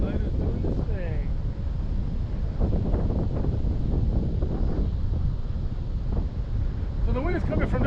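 Crosswind blows steadily at a glider launch site, a continuous rough roar buffeting the microphone, with a voice talking over it.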